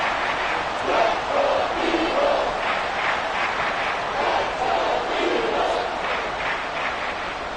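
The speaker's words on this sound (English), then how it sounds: "the crowd getting into it as we come up on a big 3rd down" A football stadium crowd before a big third down keeps up a sustained roar of cheering and yelling, with scattered shouts rising above the din, and a commentator speaking over it.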